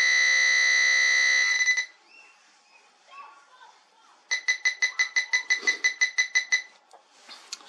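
Electronic beeping from a Quest XPointer Max metal detector pinpointer: a long steady tone, then a quick regular run of about a dozen short beeps, with faint voices in the gaps.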